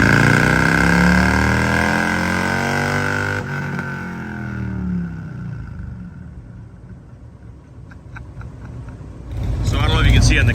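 A Harley-Davidson Road Glide with a freshly installed, untuned stage 2 cam runs on a dyno. Its loud, close engine roar winds down in pitch and fades to a low rumble, then picks up again briefly at the end.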